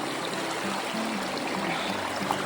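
A river flowing steadily, its water rushing and trickling in a continuous nearby wash with no voices.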